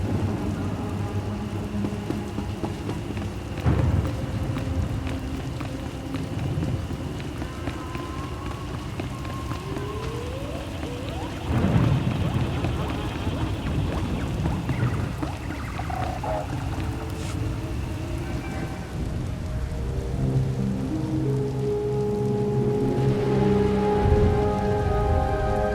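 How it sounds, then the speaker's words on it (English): Steady rain pours and patters in a stormy setting from the SWTOR video game, with a few deeper rumbling swells and watery splashes rising through the constant downpour. "Hard to track them through the storm. Rain's wiped out the trail."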